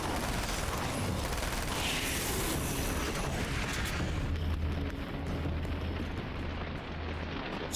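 Flashbang explosions boom in Alan Wake's American Nightmare, a dense roaring wash of blasts and rumble that fills the opening seconds, then thins to a lower rumbling hum with scattered crackles.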